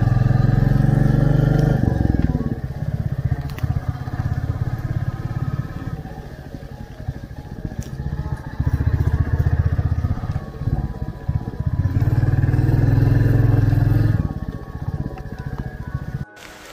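A motorcycle rides along a road in the rain, its engine droning loudly and close with repeated surges and dips. Wind and road noise wash over everything, and a pause in the middle lets a steady rushing sound through.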